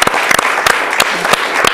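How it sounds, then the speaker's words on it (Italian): A crowd applauds a young Italian racewalking champion, with dense clapping and a few sharper claps standing out, lasting under two seconds. "Un applauso ragazzi"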